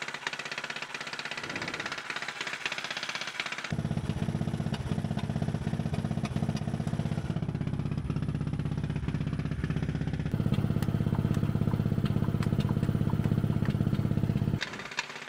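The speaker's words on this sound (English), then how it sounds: "now we're gonna engage the Pony Engine into the big engine." A Caterpillar D8 dozer's small pony engine runs in a rough, rapid clatter, then a heavier, lower rumble builds in step changes as it is engaged to turn over the big diesel engine, loud and close with no talk.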